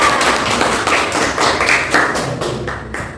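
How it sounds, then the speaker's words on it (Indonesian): Classroom students clapping for a group in a chemistry lesson, a close, loud burst of dense hand claps that fades slightly toward the end. "Beri tepuk tangan untuk kelompok luas permukaan."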